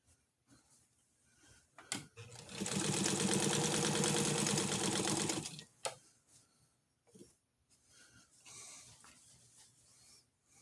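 A sewing machine stitches a mend into an old sheet that is coming apart, running in one steady, loud burst of about three seconds between quieter handling clicks and fabric shifting, close by with no voices.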